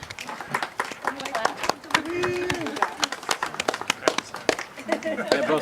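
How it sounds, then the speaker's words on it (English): Audience at a one-day mountain retreat snapping fingers and clapping together, a scattered run of sharp snaps and claps under a speaking voice, with a brief sustained tone partway through. "both snaps and claps"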